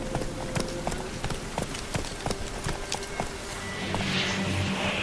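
Roach the horse trotting in The Witcher 3, a steady clip-clop of hooves at a brisk rhythm over ambient game sound, with the hoofbeats close and fairly loud.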